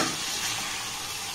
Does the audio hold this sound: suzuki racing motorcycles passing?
no